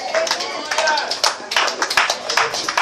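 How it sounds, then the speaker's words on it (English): A church congregation clapping at an anniversary service, uneven claps from many hands mixed with voices and shouts, loud and close, with no steady beat. "One of you clap to the Lord."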